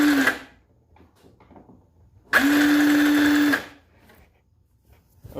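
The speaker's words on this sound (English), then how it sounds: "you can see that the motor's engaging" A Power Wheels Jeep's electric motor engages its gear teeth in a loud, steady whir lasting about a second, with a shorter burst just before it.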